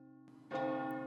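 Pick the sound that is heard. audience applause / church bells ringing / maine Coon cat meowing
church bells ringing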